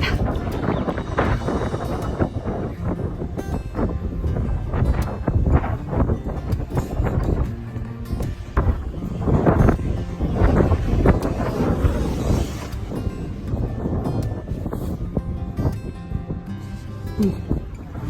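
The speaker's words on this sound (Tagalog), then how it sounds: "Lakas ng hangin ah." Strong gusts buffet the microphone in loud, uneven rumbling bursts that rise and fall throughout.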